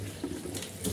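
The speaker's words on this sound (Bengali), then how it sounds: "কয়েকবার খুব ভালো করে ধুয়েছি, এবার লাস্ট ধোয়া দিয়ে নেব।" Malabar spinach leaves are rinsed in water, making a brief, close sloshing and splashing that lasts about a second.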